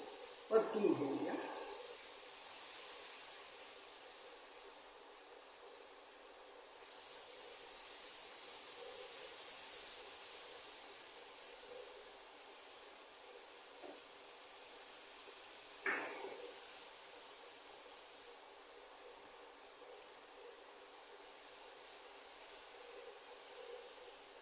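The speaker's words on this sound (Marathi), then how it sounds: "4 हिरव्या मिरच्या मी मध्ये कापून घेतलेल्या आहेत, त्या या कांद्यामध्ये घालून परतून घेऊया." Green chilies sizzle as they are sautéed in onions in an Indian home kitchen, a steady hissing fry with a brief rattle of stirring and a short voice partway through.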